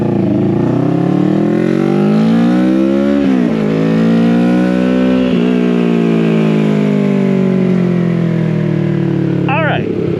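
A CFMoto 650NK motorcycle with a 649cc two-cylinder engine, heard close and loud while riding, its note climbing through a gear, dropping at a shift and climbing again before easing off.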